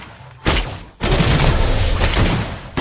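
Rapid bursts of gunfire from a hero's gun in the mobile game Mobile Legends, a loud volley starting about half a second in, a brief pause, then sustained dense firing to the end.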